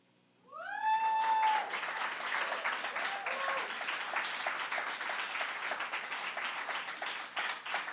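Audience applause after a poetry reading, starting with a whistled or cat-like rising call and then settling into steady, moderately loud clapping from a small room that continues evenly without talk.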